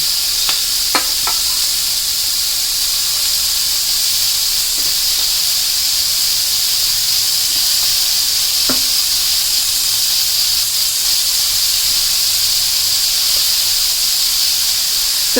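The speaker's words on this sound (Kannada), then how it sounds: "ಇದನ್ನು ಚೆನ್ನಾಗಿ ಫ್ರೈ ಮಾಡಬೇಕು" Drumstick leaves fry in a hot pan with a loud, steady hiss and sizzle, broken by a few faint scrapes of stirring, close and continuous with no talking.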